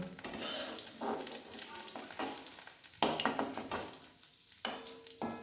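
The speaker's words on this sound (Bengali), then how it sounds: "তাহলে পনির ভাজা আমার কিন্তু হয়ে গেছে" Soft paneer fries in a pan with a continuous dense sizzle. Periodic scraping bursts from stirring rise and fall over several seconds. The sound is close but fairly quiet, with no voices.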